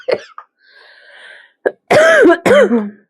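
A person coughs in several harsh, close bursts: a short cough, a pause with faint background hum, then two louder throaty coughs near the end.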